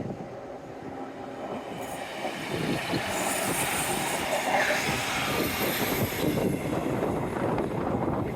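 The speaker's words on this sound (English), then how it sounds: "Hello, train." A train passing by on a blustery seaside walk, a steady rumbling roar that builds and holds, mixed with wind noise, fairly close and continuous with no talking.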